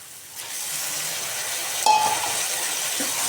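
Tomatoes fry in a pan for bharta, giving a steady, broadband sizzle that swells slightly as they land in the hot oil, with a brief utensil clink partway through.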